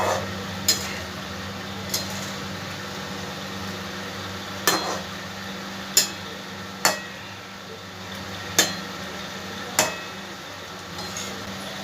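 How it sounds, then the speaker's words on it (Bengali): A utensil gently stirs an egg pepper fry in a pan, making about nine sharp metallic clinks and taps spaced irregularly over a low steady hum, with no talk. "হালকা হাতে একটু নাড়াচাড়া করে দেবো, কারণ জোরে নাড়াচাড়া করলে কুসুমগুলো সব বেরিয়ে যাবে।"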